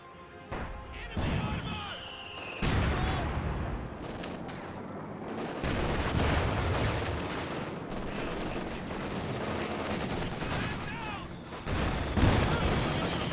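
A DShK heavy machine gun opens up in Company of Heroes 2, suppressing infantry on a victory point, amid a chaotic battle of bursts, crashes and impacts that keep swelling and fading over a dense, loud background.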